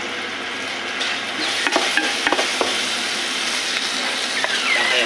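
Carrots and string beans sautéing for pancit canton, a loud close sizzle with the scrape and clink of a spatula stirring in the pan, several sharper knocks midway.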